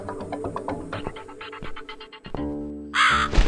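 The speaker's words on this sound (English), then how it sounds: "Hey, look, it's a crow!" A crow in the video game The Cat Lady gives a run of rapid harsh caws, followed by a pause and then one louder, rasping caw near the end, heard close and clear.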